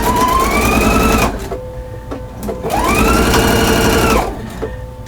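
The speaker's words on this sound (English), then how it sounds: "now I will go ahead here and sew this together" A sewing machine stitching quilt block seams in two loud, close bursts of rapid mechanical whirring that rise in speed, each about a second long, separated by a short quiet pause.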